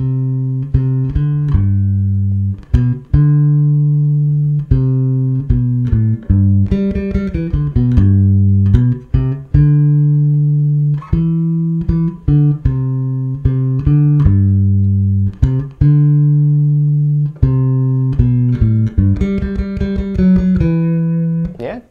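A bass guitar plays a steady bassline of plucked low notes with a few quick fills, loud and clear on its own.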